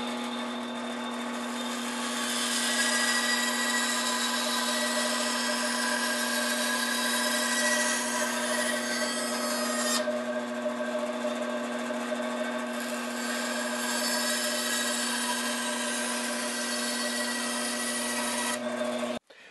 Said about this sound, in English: go over to the bandsaw and cut that portion out